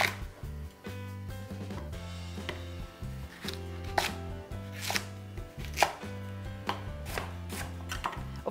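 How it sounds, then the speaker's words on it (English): A knife chops peeled sweet potato and carrots into big chunks on a board, with a run of close, crisp cuts in an uneven rhythm and several sharper knocks, with no talk. "you can cut the sweet potato and your carrots."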